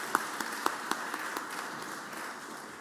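Applause in the Mississippi Senate chamber, a few sharp nearby claps standing out over a soft, diffuse wash of scattered clapping that fades toward the end.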